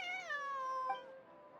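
Single drawn-out meow from a cat in Genshin Impact, a clear tonal cry that slides downward and fades, heard close and alone against a quiet background.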